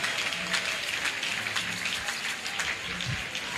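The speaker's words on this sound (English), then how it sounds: "Oh, continue to clap your hands for the vice president." A church congregation claps steadily for the vice president, a dense, even wash of applause that sounds fairly distant and continuous throughout.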